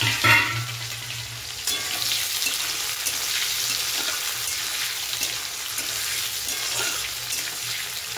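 Chicken pieces sizzle and fry in a kadai, with a steady crackling hiss and scraping stirring strokes close by, loud and continuous.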